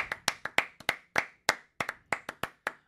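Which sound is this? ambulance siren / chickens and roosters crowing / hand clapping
hand clapping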